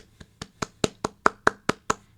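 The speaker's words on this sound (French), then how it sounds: "Voilà, on les applaudit tous." A run of about nine sharp hand claps at a steady, even pace, close and fairly loud, fading out at the end.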